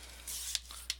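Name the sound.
cutting paper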